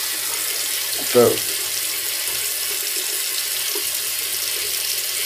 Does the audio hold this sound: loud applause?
no